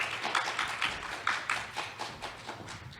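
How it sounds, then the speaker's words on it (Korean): An audience at an academic forum claps, a loose burst of applause with uneven pulses that carries on steadily at moderate volume. "다시 박수와 강렬한 격려의 눈빛을 보내주시길 부탁드립니다"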